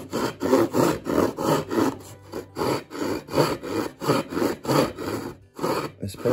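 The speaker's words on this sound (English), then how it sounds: "The trick is to leave your waste outside and then simply make these short cross cuts." A hand saw makes short cross cuts in wood for a pack board frame, a loud close rhythmic rasping with about a dozen even back-and-forth strokes and brief pauses, no talking.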